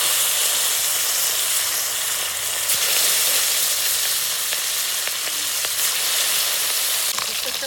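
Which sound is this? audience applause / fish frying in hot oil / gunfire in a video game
fish frying in hot oil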